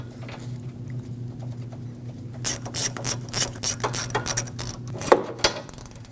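Ratchet wrench clicking in quick bursts while the AC line bolt is tightened on a 2.5L Nissan Frontier during a condenser replacement, close and fairly loud over a steady low hum.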